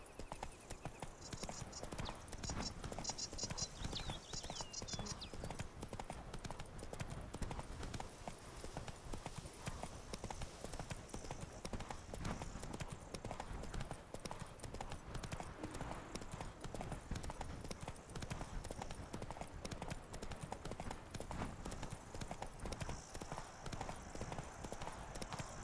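The horse Roach in The Witcher 3: Blood and Wine clip-clops in a steady, quick hoof rhythm throughout, fairly faint and even, with a faint voice giving commands over it.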